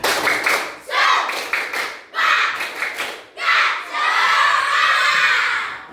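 Schoolchildren in an Indonesian classroom clap out the rhythmic tepuk semangat chant, bursts of group clapping and shouting in quick patterned phrases, ending in a sustained noisy cheer.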